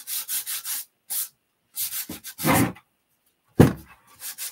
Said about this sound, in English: I'm gonna just sand it up a bit.